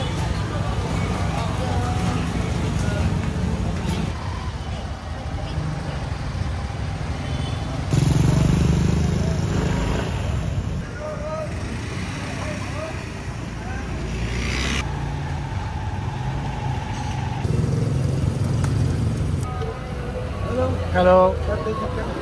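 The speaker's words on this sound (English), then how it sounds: "There's motorbikes passing." Motorbikes and other traffic rumble past continuously on a busy street in Jakarta, Indonesia, engines rising and fading as vehicles go by, with a lively outdoor background.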